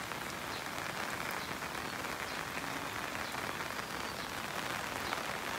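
Steady rain falls on a farm with no wind, a dense, even patter of drops on surfaces at low level, with no talk.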